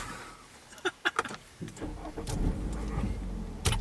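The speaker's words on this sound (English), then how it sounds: "Car starts just fine." Car engine starting after a few clicks and clunks, a brief cranking burst followed by a steady idle rumble at close range, with a sharp knock near the end.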